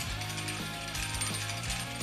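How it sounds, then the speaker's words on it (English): A gantry crane in a hot rod garage lifts a giant turbo for a built V8, with a close, rhythmic run of mechanical ratcheting clicks from the hoist. "you have a gantry crane, you're gonna use it, right?"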